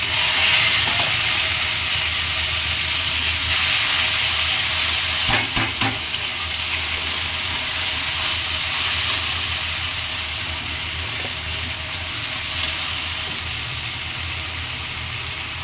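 Spice masala frying in a pan for a home-cooked festival meal, a steady loud sizzle and hiss that continues throughout, with a few brief stirring clinks partway through.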